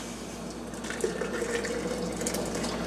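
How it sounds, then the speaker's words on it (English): Liquid pours steadily into a container as a homemade apple, ginger and mint drink is filled, a continuous close gushing trickle without talk. "So we just go ahead and start filling our first container."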